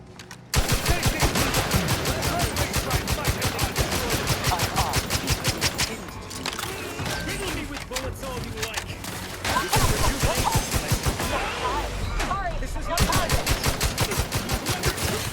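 Rapid automatic gunfire in The Outer Worlds 2 rattles out in long, loud, evenly spaced bursts with brief pauses between strings, with occasional speech underneath.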